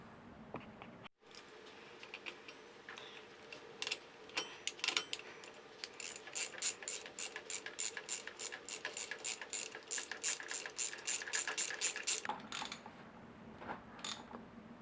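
Ratchet tightening a bolt on a Honda NT400 rear brake, a long run of quick, evenly spaced metallic clicks after a few scattered clunks and tool knocks, close and fairly quiet, no talk.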